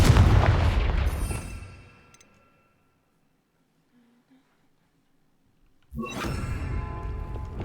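Confringo blasting spell in the Hogwarts Legacy game, a loud booming burst that decays over about two seconds, then near silence before another heavy blast rumbles in.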